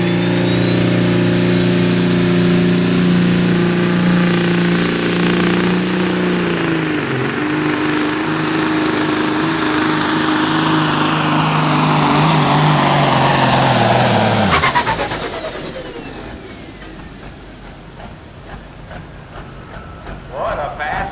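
A pro stock semi truck at a county fair truck pull in Dayton, Ohio roars loudly at full power, with a sustained deep engine drone. It cuts off sharply about two-thirds through, leaving quieter crowd and ambient noise, with an announcer's voice over it.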